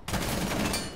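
Dense rapid gunfire from the video game Rainbow Six Siege, a loud continuous burst of automatic shots filling the full second with no pause.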